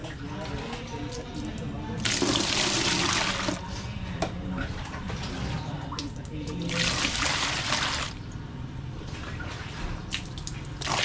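Water poured into a basin during laundry washing, heard as two loud rushing bursts separated by dripping and trickling, close by.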